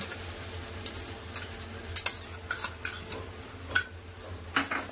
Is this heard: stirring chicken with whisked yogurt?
yes